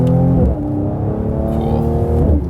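A 2019 Mercedes C43 AMG C-Class facelift engine blips and revs as it downshifts into a hairpin corner, with loud rising and falling engine notes and no talk.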